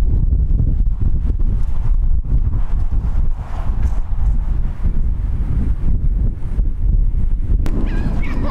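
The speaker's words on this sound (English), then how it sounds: "Man, it's really windy out here." Strong wind blows outdoors at a fishing campsite, buffeting the microphone with loud, continuous low roaring gusts that rise and fall throughout.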